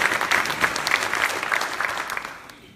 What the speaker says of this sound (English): Let's give that a round of